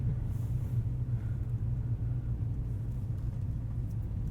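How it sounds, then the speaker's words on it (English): Supercharged 2015 Toyota Tundra TRD Pro V8 heard as a steady, low engine rumble from inside the truck, a continuous drone with no voices over it. "There's a little taste of a supercharged Tundra."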